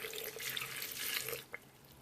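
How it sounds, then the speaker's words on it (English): A very small amount of water pours onto garden eggs for a Ghanaian garden egg stew: a short, soft, steady splashing stream ending with a single drip, close and quiet. "And then I'm going to slightly add an amount of water, a very small amount of water"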